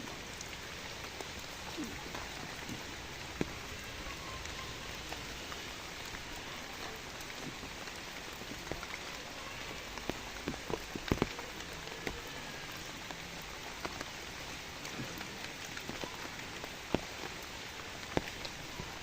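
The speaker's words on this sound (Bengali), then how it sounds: "প্রচুর বৃষ্টি হচ্ছে, ছাতি দিয়ে ভিডিওটা করতেছি" Heavy rain pours down steadily, recorded from under an umbrella, a dense continuous hiss with scattered louder drops striking close by, with no voices.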